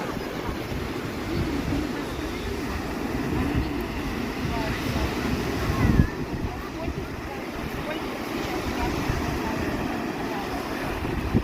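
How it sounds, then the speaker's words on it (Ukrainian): High sea waves break on a beach at Sveti Vlas, Bulgaria, a steady broad roar of surf with wind buffeting the microphone throughout. "там такі високі хвилі"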